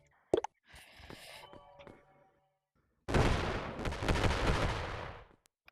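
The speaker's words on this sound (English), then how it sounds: "Don't mind those explosions in the background." Explosions sound in the background of a home kitchen while rocket pancakes are cooked, a few sharp pops and then a long loud rumbling blast, otherwise quiet with no speech.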